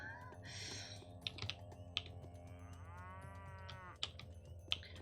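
A small cow lows once in Pathologic Classic HD, a drawn-out mid-pitched moo over keyboard clicks and a low steady hum.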